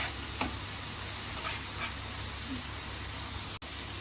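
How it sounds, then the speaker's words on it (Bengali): Rohu fish is stir-fried in a spiced yogurt curry for doi rui, giving a quiet, steady sizzle with a few light spatula clicks and scrapes and one sharp tick near the end. "এটা এবার আমি একটু ভালো করে কষিয়ে নেব।"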